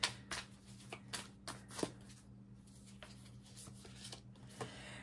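Animal oracle cards being shuffled by hand, a quiet run of soft papery riffles and flicks in bursts at close range, with a low steady hum beneath and no talking.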